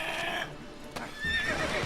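A horse neighs in The Witcher 3 while a large creature attacks it, a short whinny over game ambience with a brief clatter of hooves.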